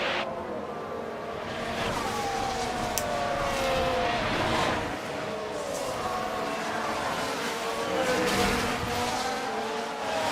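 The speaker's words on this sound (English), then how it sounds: "I thought I heard a screech of a lockup in the background." F1 race cars roar past in the video game F1 Manager 24, engines whining up and down, with a screech of a tyre lockup rising in the mix of continuous racing noise.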